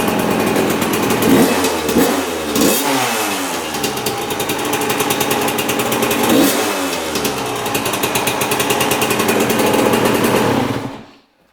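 A dirt bike's single-cylinder engine runs steadily after a new piston break-in, close and loud, with a few throttle blips rising and falling before it cuts off near the end.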